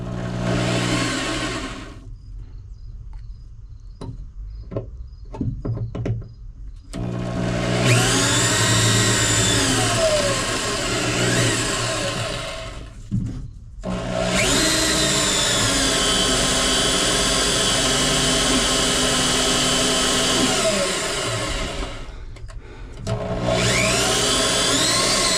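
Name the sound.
mini right angle drill running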